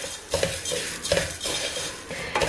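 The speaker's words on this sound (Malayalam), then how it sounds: "നന്നായിട്ടൊന്ന് മിക്സ് ചെയ്യാം." Roasted semiya is stirred in a cooking pan, a spoon scraping and clinking against the metal in several quick rhythmic strokes, close and clear, with no voices.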